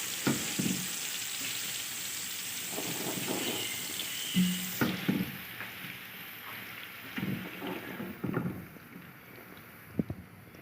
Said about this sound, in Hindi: प्याज अभी और ज़रा सा इसको कलर आ जाए तब तक फ्राई करेंगे